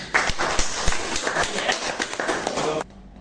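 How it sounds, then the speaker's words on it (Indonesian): Lecture-hall applause for a good answer: a busy, moderately quiet scatter of sharp hand claps runs for nearly three seconds, then stops abruptly into near silence. "bagus tepuk tangan"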